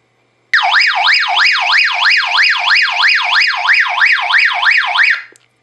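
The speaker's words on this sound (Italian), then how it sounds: "Premendola a lungo invece attiva una modalità allarme per segnalare la nostra presenza." A loud electronic alarm tone from a Retevis RT-5RV two-way radio sweeps rapidly up and down in a steady warbling pattern, about a dozen cycles over five seconds, then cuts off abruptly.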